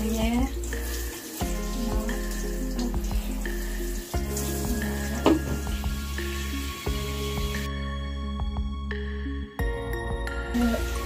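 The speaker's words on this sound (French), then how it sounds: "On mouille bien tout le poil." Running water from a tap or shower wets a pug's fur during a bath, a steady close hiss broken by a few brief pauses and splashy shifts as the stream moves over the dog.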